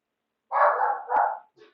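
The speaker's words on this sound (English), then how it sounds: "The dog downstairs yells at everything." A dog downstairs gives a single muffled bark that trails into a longer whining yelp, followed by a short soft yip, alone in an indoor room.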